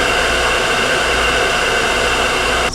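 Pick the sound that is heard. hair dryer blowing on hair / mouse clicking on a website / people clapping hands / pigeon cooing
hair dryer blowing on hair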